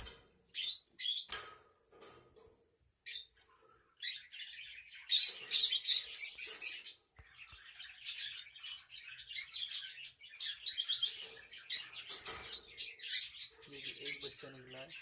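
High, thin peeping calls from a newly hatched budgerigar chick in a nest box, in rapid scattered bursts, faint and close, with a person talking quietly in between.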